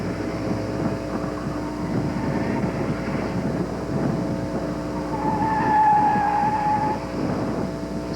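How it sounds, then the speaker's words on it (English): A 1988 Alfa Romeo runs a national auto slalom championship course, its engine droning steadily at a distance with a brief rising whine partway through and a constant background hum. "Now starting the third run of today's six-run National Auto Slalom Championship. And we have an Alfa Romeo on the course."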